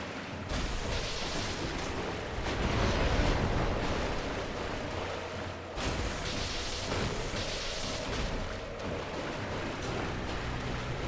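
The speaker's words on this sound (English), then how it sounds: "Oh, explosion." A spell explosion bursts in Dark Souls 1, a loud roaring whoosh with a rumbling tail that swells, cuts off, then a second similar blast follows, with no talk.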